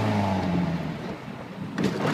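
A 1958 MGA sports car engine easing off and slowing down, a close, loud mid-pitched drone that sinks and fades slightly before swelling again at the end.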